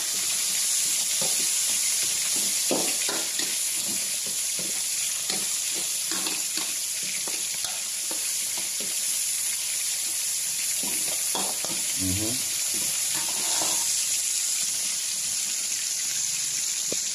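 Tomatoes and sprouted beans frying in a pan, a continuous bright sizzle with scattered stirring clicks and scrapes, steady and close, with no talking.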